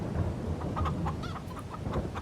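Chickens in Farming Simulator 22, on the Aukrug Homfeld farm map, cluck in a steady run of short, bright calls, moderately close over a low background hum.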